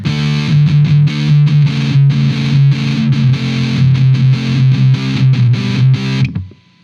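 A heavily distorted IYV Les Paul electric guitar on the neck pickup chugs out a rhythmic riff with thick low notes, then cuts off and fades to silence.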